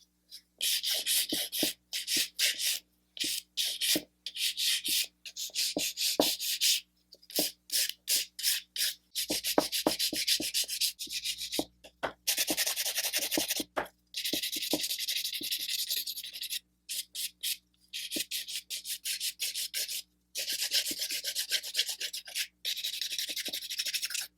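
Acrylic nails being shaped with a nail file, heard as close, rapid rasping strokes in bursts separated by short pauses, continuing steadily throughout with no talking.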